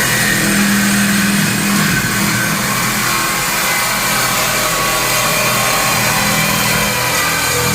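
A saw cuts steadily and loudly through the rusty exhaust pipe just past the muffler on a Ford F100 pickup, a dense, continuous rasp filling the whole stretch with no speech.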